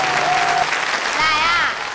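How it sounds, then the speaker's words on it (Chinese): A studio audience at a family variety show breaks into loud, sustained applause, dense clapping filling the room, while a host's voice and a musical tone sound over it. "掌声有请。"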